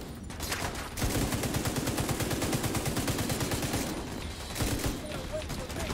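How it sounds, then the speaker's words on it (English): Rapid, sustained automatic gunfire from the president character in The Division 2, loud and close, a dense rattle lasting several seconds with a brief lull near the end. "Is that the president shooting?"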